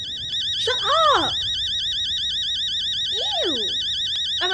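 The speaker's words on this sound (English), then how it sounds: "Why is my phone alarm a car alarm?" A loud car alarm, used as a phone alarm in the horror game Fears to Fathom, wails continuously in a steady warbling pattern throughout, while a voice shouts over it twice.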